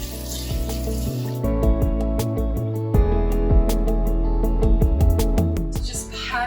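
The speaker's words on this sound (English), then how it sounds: "And then I rinse off." Running water from a sink tap flows steadily while a face is rinsed, with repeated close splashes and hand slaps breaking up the continuous stream.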